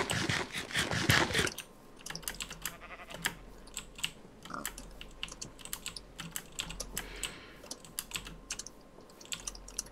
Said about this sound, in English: Are you typing to people now?